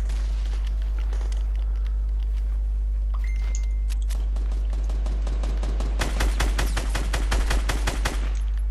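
Tactical shotgun blasts from the Fortnite video game, with a few scattered shots early on, then a dense, rapid run of loud, sharp reports near the close.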